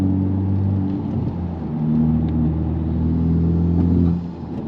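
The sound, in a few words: Honda Civic Type R aftermarket exhaust revving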